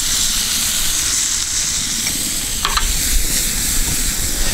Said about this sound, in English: I'm just going to let that saute a little bit.